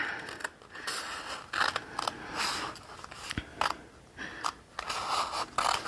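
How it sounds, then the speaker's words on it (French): Scissors snip through strips of diamond painting canvas in a string of close, crisp cuts with brief pauses and faint handling noise between them. "je vais juste découper les bandes"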